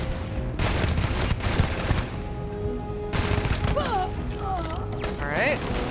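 Gunfire in the sci-fi game Starfield, rapid bursts of automatic shots with heavy recoil and mechanical clatter, followed by whooshing, warbling effects, with game audio dense throughout.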